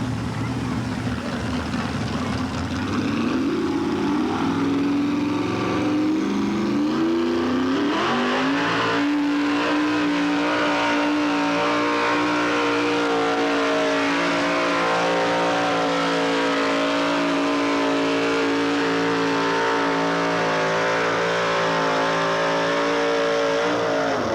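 Street modified race cars howl around a dirt track at Waupaca, Wisconsin in 1986, a loud continuous engine roar that rises in pitch as the cars accelerate and then holds at a steady high drone, with faint speech under it.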